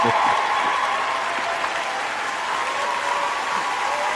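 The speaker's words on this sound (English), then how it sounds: "Let me give you a round of applause." Applause from a live radio-show studio audience runs steadily through the clip as a dense, even wash of clapping at moderate loudness, with no clear voices over it.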